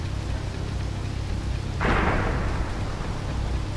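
Thunderstorm in the video game Cradle: steady rain hiss throughout, then a sudden loud thunder crack near the middle rolling into a sustained rumble that lingers to the end.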